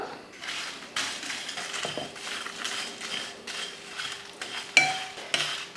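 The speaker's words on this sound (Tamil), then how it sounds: "இதெல்லாம் இப்போ வறுத்து நம்ம பவுட்ரு பண்ணிடலாம் எல்லாத்தையும் ஒன்றாவே போட்டு வறுத்துக்கலாம்" Whole spices dry roasting in a pan for mutton biryani masala, tossed and scraped with repeated metallic clatters and rustling stirs, close and fairly busy across the whole stretch, with no voices.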